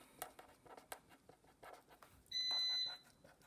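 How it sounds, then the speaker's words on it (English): A faint electronic tone beeps once for about half a second amid quiet rustling and light tapping in a room. "Got all kinds of beeping and messages happening."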